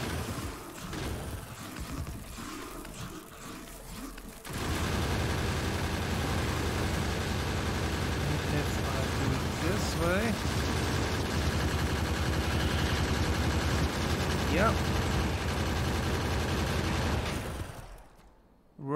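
Sustained rattle of gun turrets firing at worms in Factorio, continuous loud automatic fire holding steady for about thirteen seconds before cutting off, with quieter scattered shots at the start.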